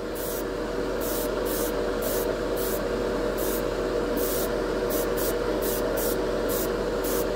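Spray gun laying down a final coat of Createx Wicked Colors chrome paint, a steady close hiss running the whole time with short rhythmic pulses as the trigger is worked, no voices.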